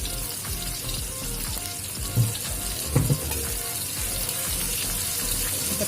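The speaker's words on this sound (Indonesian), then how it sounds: "Tumis dengan sedikit minyak goreng hingga harum dan wangi ya." A ground spice paste sizzles in a little cooking oil, giving a steady hiss with a couple of brief louder clatters partway through. No one speaks.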